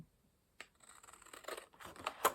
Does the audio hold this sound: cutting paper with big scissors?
yes